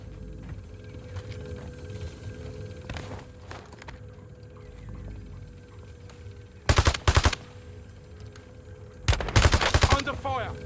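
Loud, close bursts of automatic gunfire in a Call of Duty Warzone solo match, two rapid volleys several seconds apart over a low mechanical game hum and scattered clicks.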